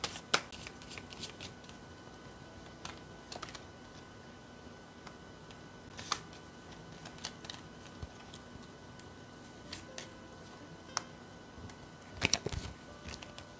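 Tarot cards shuffled by hand, heard as quiet, sporadic riffles and crisp clicks scattered across a soft background, with occasional sharper bursts.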